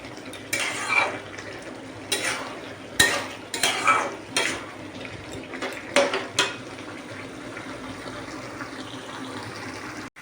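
Taro greens are stirred and sautéed in a kadai, a spatula scraping and clanking against the metal pan in irregular bursts over a soft sizzle, close up and with no talking.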